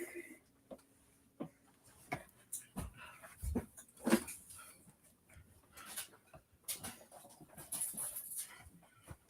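A dog whimpers and pants indoors in a living room, with a scatter of short yips and whines in bursts, close to the microphone and mixed with handling noise and a little speech.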